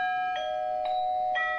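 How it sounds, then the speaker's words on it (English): An electric bell sounds three evenly spaced, clear ding-like rings about half a second apart, with a steady tone between the strikes, loud and close with no voices. "When an electric bell rings at your place"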